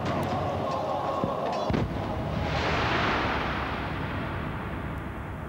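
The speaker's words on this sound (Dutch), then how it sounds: "Hij voerde zware artillerie aan om de dikke muren van de stad te vernietigen." Heavy siege artillery fires on the thick walls of Constantinople: one deep cannon boom lands partway through, followed by a long rolling rumble and debris wash, with a voice faintly present.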